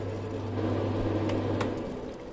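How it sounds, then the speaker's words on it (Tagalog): A kitchen exhaust fan runs with a steady low hum and broad airy whoosh, constant and fairly loud, with two faint brief clicks partway through. "Patayin na natin yung exhaust, maingay"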